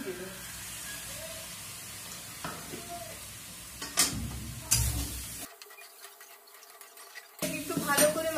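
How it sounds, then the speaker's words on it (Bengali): Chili powder, ginger powder and turmeric stirred into potatoes in a hot pan: a soft scraping sizzle with scattered utensil clinks, broken by a few seconds of near silence before the stirring resumes. "লঙ্কার গুঁড়ো আদার গুঁড়ো আর হলুদের পরোটাকে ভালো করে মিশিয়ে নেবো"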